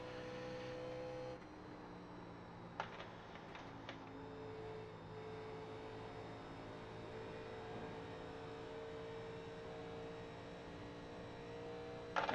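A race car in iRacing at Atlanta runs under full throttle, its engine giving a steady, sustained drone at constant volume with a few faint clicks, and no voices are heard.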